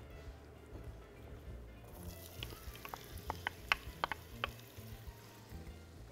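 Onion frying in oil in a pan; a steady low sizzle after the onion goes in, with several sharp crackling pops in the middle, moderately faint and without speech.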